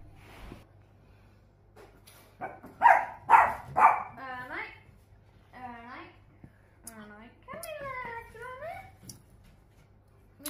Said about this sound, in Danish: De to hunde skændes, det må jeg altså godt lade være med.